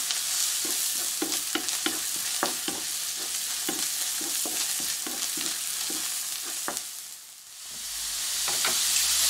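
Chopped onions, left unsalted, sizzle steadily in a frying pan for chicken liver. A continuous hiss is punctuated by regular scraping stirs, with a brief lull near the end before the sizzle swells again.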